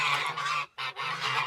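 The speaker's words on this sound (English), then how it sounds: "Come on, Buddy Goose" Geese at a farm animal sanctuary honk in loud, steady bursts, one brief pause breaking the calls, close by with no talking.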